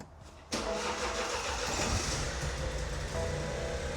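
A BMW car engine cranks and catches after a brief quiet moment, then settles into a loud, steady idle up close, slightly skipping a beat while cold.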